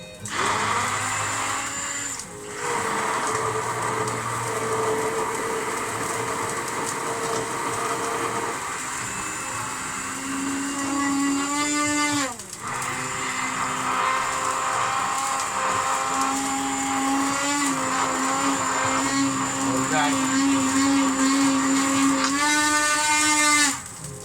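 A cheap Richmond kitchen blender runs nonstop for about 24 seconds, a loud whining motor drone that dips and surges in pitch as it churns, with no one talking.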